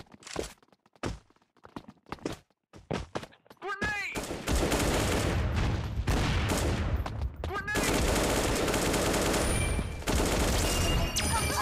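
Gunfire in the video game Bullet Angel, first a run of sharp separate shots, then a dense, loud, continuous barrage of rapid fire and blasts, with no clear speech.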